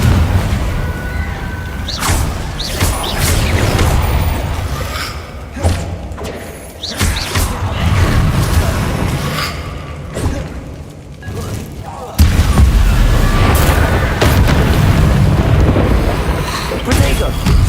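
Spell explosions and combat impacts in Hogwarts Legacy, heavy booms and thuds recurring irregularly amid a busy, loud battle mix, with a voice speaking over parts of it.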